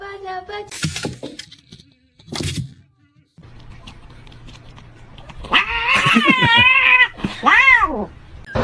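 A cat with its head stuck in a chair yowls and caterwauls loudly and close, with long wavering wails that rise in intensity, preceded by a few sharp knocks and scrapes.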